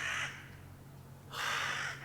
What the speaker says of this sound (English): Crows. The noisiest bird ever is a crow.